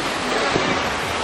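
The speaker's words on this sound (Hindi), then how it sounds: "ऊपर से पानी गिरता हुआ" A waterfall with water falling from above, a steady broadband rushing roar, close and continuous with no breaks.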